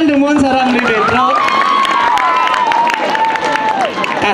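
Crowd at a Balinese temple festival (piodalan) cheering and clapping loudly and continuously, with shouts, whoops and a rising voice or instrument tone running through the noisy din.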